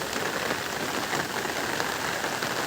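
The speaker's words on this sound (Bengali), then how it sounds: "প্রচুর বৃষ্টি।" Heavy rain pours steadily on a flooded village garden, a dense even hiss of countless drops with no pauses, close and continuous, and no voices.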